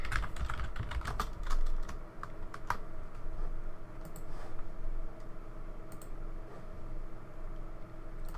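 Close, clattering keystrokes on a computer keyboard, bursts of irregular taps that thin out and slow over several seconds, with no talking.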